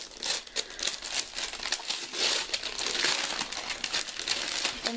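A small package wrapped in snowman-printed paper is handled close up, giving steady crinkling and rustling of wrapping paper throughout, with no talking.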